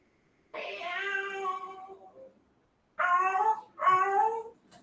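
A human voice imitates a cat, giving three meows: one long drawn-out meow, a pause, then two shorter ones close together.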